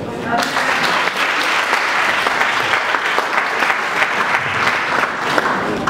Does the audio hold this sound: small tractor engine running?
no